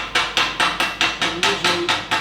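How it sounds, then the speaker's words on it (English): Steel chipping hammer knocking slag off a stick weld bead, about nine sharp, evenly spaced metallic strikes in quick rhythm, close and loud with no talking. "a chipping hammer for removing the slag"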